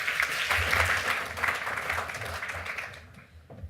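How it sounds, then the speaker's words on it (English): Audience at an awards ceremony applauding, a steady wash of clapping from a room of people that fades toward the end. "Let's give them a round of applause."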